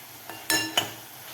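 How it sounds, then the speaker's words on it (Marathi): Onion sautéing on high flame for kanda poha: a couple of quick metallic clinks and scrapes of a spoon in the pan over a faint, steady background sizzle. "कांदा आपल्याला मोठ्या गॅसवरच परतून घ्यायचा आहे."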